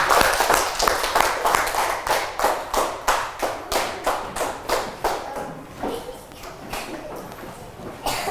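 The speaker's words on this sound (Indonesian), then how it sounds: "Tepuk tangan." An elementary-school class claps in unison, sharp rhythmic bursts in a steady patterned beat that grow more spaced and quieter toward the end, with little talk.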